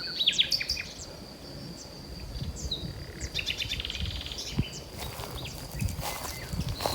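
Golden oriole calling from an oak tree on a Portuguese homestead, scattered bright whistles and chirps over a soft outdoor background with occasional footstep-like thumps.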